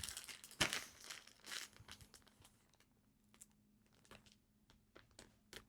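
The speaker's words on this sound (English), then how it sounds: "something is not letting the Ziploc zip" A plastic Ziploc bag crinkles and rustles up close as someone struggles to zip it shut, a loud burst of crackling at first, then sparse faint clicks and rustles in a quiet room.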